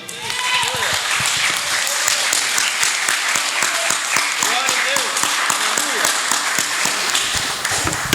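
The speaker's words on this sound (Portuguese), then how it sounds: "Vamos aplaudir o Senhor." A church congregation applauds during a worship service, sustained loud clapping from many hands filling the room without a break.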